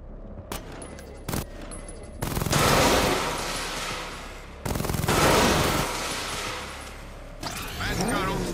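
Bursts of gunfire from militia troops and automated turrets in the Batman Arkham Knight video game, with short shots early on and then long, loud sustained volleys rolling in waves under a low steady hum, no voices.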